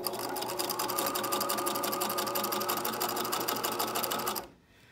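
A sewing machine runs continuously, stitching elastic onto stretched fabric for period underwear, with a fast, even needle rattle that stops abruptly just before the end.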